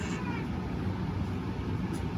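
A cat meows indoors under a steady background noise while someone crochets a dog sweater. The meow is moderately loud and not clearly separated from the surrounding sound.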